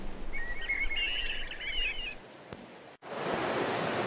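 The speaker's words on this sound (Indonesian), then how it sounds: "Air terjun, bunyi-bunyian burung, An juga bunyi hidupan dia." Rushing jungle waterfall gives a steady broad wash, with bright birdsong chirps over it early on and a short break in the sound near the end.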